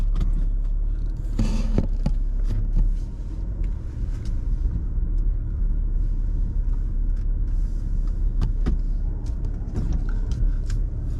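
Cars idle and pull away in the early morning at Glasgow Hills golf resort on Prince Edward Island, near the first-tee starter hut: a steady low engine rumble with passing swells and no talking.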